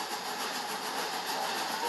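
Steam engine Thomas runs along the track with a steady rushing, clattering rumble that stays even and fairly loud throughout, without a voice.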